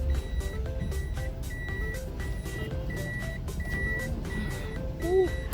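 A car's seatbelt warning chime keeps beeping in a steady repeating pattern, with engine rumble and road noise underneath.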